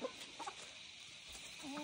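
Hens cluck softly amid a busy outdoor barnyard, with a few higher chick-like peeps and a brief squawk near the end.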